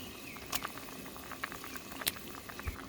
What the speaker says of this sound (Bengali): বলক এসেছে